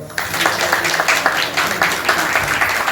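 Applause welcoming guests at a festival event at AGB College, a room full of hands clapping in a dense, steady patter that starts abruptly and holds for several seconds.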